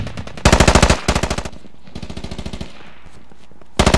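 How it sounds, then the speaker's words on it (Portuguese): Enemy AK rifle fire in the military shooter game Squad: several rapid automatic bursts, the first loud and close, the middle ones slightly softer, then a final burst after a brief pause. "É fogo inimigo, disparo de AK."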